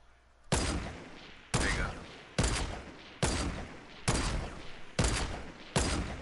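Rapid bursts of gunfire from a Fortnite squads match ring out loud and close, seven sharp shots spaced roughly a second apart, each with a short decaying tail, with no talking.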